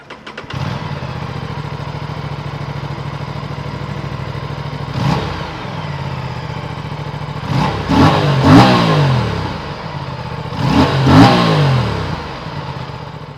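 An Aprilia RS 457 motorcycle on a race track: a loud, steady engine drone broken by several sharp rising revs and gear-change swoops, close and with no voices.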